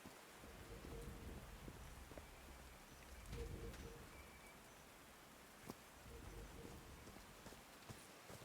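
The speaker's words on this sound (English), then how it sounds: "These drops of rain are so refreshing." Steady rain and falling drops in the video game Call of the Sea, a continuous soft wash with low rumbling swells and a few brief sharper taps, no talking.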